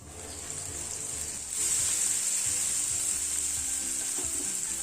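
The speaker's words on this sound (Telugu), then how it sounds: "కూరగాయలన్నీ ఒక 5 నిమిషాల సేపు మీడియం ఫ్లేమ్లో మగ్గించుకోవాలండి" Mixed vegetables for semiya upma sizzle steadily in a pan on medium flame, a continuous frying hiss that grows slightly louder partway through, with no talking.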